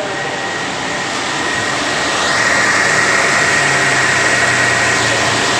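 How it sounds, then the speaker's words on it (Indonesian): Radiator cooling fan on a Toyota Avanza, spinning with the engine running and the AC on, makes a steady loud whirring rush with a faint whine, growing a little stronger partway through. "Kipas berputar, Bang, ya."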